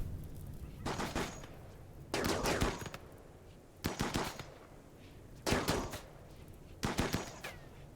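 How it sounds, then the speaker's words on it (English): Bursts of video game gunfire, five separate rapid-fire volleys spaced a second or so apart over a low steady background, fairly close and crisp. "What are you guys shooting at?"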